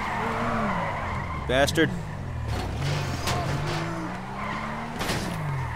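Car tires skidding and squealing as a car spins out during a chase in GTA 5, a sharp burst of screeching over engine noise, with someone talking and swearing throughout.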